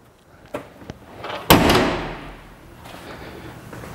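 The door of a 1993 Mustang GT convertible opens with a couple of light clicks, then closes with one solid thud that fades into a short rumble, heard up close.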